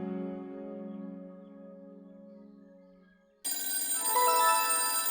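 A telephone rings indoors with a sustained tonal electronic trill that fades, then cuts abruptly into a louder, brighter ringtone burst; no talking over it.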